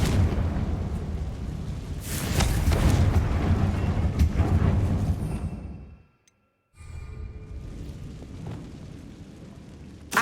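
Repeated Confringo fire-spell blasts in the Hogwarts Legacy video game burst out as loud, rumbling explosions, one after another. They drop to sudden silence, then resume as quieter crackling booms.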